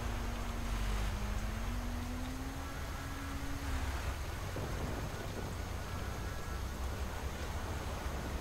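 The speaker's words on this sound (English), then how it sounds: "Oh, very cool rain effects." Rain and thunder effects in the Sleeping Dogs video game: a steady hiss of rainfall with low rumbling thunder, plus a brief tonal hum early on, heard alone without talk.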